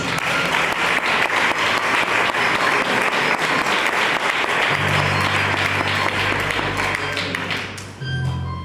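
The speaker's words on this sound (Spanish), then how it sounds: "Dale un aplauso para Dios." A church congregation at the Iglesia Filadelfia bursts into steady, dense applause that fills the room for several seconds, with a low sustained musical tone joining in near the end as the clapping thins.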